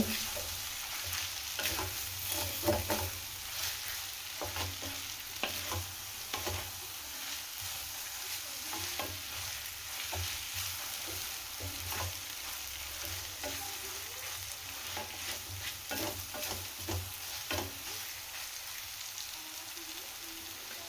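Vegetable hakka noodles stir-fried and tossed with vegetables in a pan give a steady, close sizzle with frequent clinks and scrapes of stirring throughout, and no one speaks.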